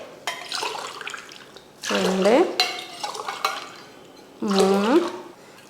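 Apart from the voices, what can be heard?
water being added to rice in a pot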